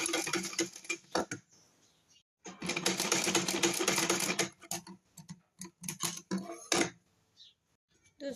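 A sewing machine stitches a trouser in quick mechanical bursts, close and clear, with short pauses between runs of rapid ticking and no talking.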